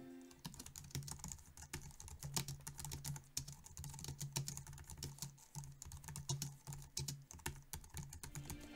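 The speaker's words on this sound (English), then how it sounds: "It really is a great quiet keyboard to type on. And here's a sound test" Steady typing on a quiet low-profile Logitech MX Keys Mini keyboard, a fast run of soft, muted key clicks with no voices.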